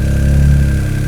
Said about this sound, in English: Start and idle. Yeah, start it up.